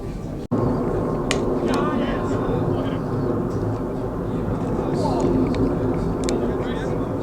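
A large airliner climbs out after takeoff from Heathrow and passes over a cricket ground, producing a loud, steady, broad jet roar that fills the whole stretch, with faint voices in the background.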